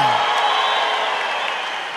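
Audience applauding a contestant named Water, a dense, steady wash of clapping that holds at even loudness for the whole stretch.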